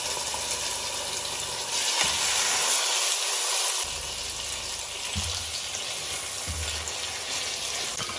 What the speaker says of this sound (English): You can hear that lovely sizzle.